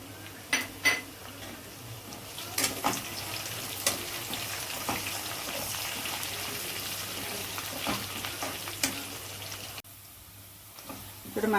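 Cumin seeds, dried red chillies and curry leaves sizzle and spit in hot oil for okra fry, a steady crackling hiss with sharp pops and occasional spoon clinks, close and fairly quiet.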